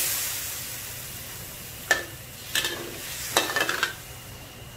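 Pork ribs sizzle softly in a pan after water is poured in, with a few bursts of utensil scraping and stirring against a steady frying hiss.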